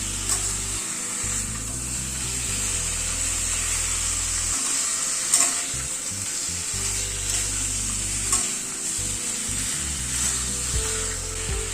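Chicken pieces, about 500 grams, frying in a pan on a gas flame, a steady close sizzle with a faint hiss and a few soft clunks.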